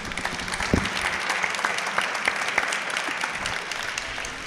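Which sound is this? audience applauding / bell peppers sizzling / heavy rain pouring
audience applauding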